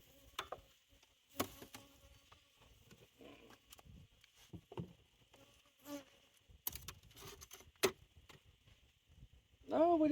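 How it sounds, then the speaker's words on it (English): Honey bees buzz faintly around an overwintered nuc during a hive inspection. The buzzing comes and goes in quiet passes, mixed with small taps and ticks close by. "No, we do have bees down here."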